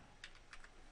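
Keys on a computer keyboard are tapped four times in quick, light succession, faint and close with no talking.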